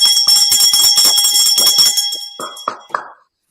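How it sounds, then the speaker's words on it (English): A handheld bell is rung rapidly and loudly, a dense metallic ringing that runs for about two seconds, then breaks into a few separate dings that fade to silence. "We ring the bell for our testing victories."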